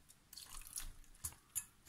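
A little water goes into flour for a sweet and sour chicken batter, heard as quiet trickles and soft splashy drips in short bursts, close and faint.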